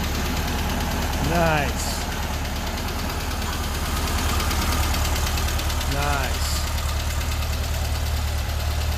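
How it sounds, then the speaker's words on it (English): A warm Volkswagen engine idles with a steady low rumble and faint knocking, close and continuous, while a person speaks briefly twice over it. "we let our Volkswagen engine run for long enough to where it's slightly warm"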